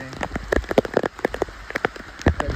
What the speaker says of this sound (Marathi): दिसता पावस येयलो